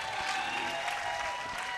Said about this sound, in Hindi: सभी तालियां बजाइएगा एक बार